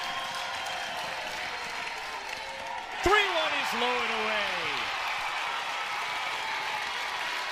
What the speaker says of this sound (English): you would think they've tied the game the way that this crowd is into it here with the 2-out wall